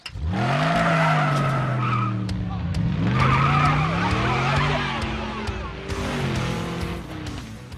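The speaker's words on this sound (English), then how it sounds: "The roar of the engine just tickles me." A Camaro's engine roars as its tires skid and squeal, a loud sustained howl that rises and falls in pitch across several seconds, close by.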